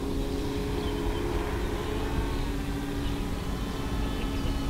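A ZOHD Nano Talon FPV plane flies overhead, its electric motor giving a steady, continuous drone that stays fairly distant and even throughout, with no talking.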